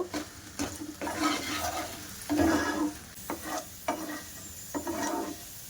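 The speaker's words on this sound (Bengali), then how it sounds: "এবার আলুটা আমি বেশ এভাবে কষিয়ে কষিয়ে গলিয়ে নেব" Potatoes being stirred and sautéed in a pan for sabudana khichdi: repeated scraping strokes at an uneven rhythm over a gentle sizzle, close and moderately loud, with no talk.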